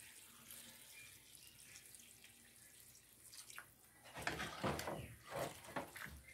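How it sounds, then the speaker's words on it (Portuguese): Water poured into a pot of sautéed beef for a stew: quiet kitchen background at first, then a louder splashing, gurgling pour that comes in bursts toward the end. "E vou acrescentar água e deixar cozinhando aqui."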